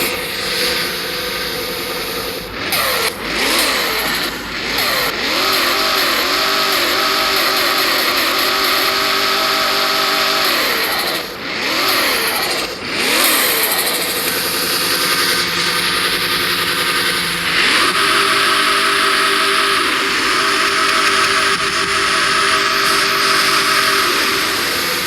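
A Lexus car engine in a video game revs repeatedly, rising and falling through several swooping climbs and drops, then settles into a loud sustained drone, close and with no talking.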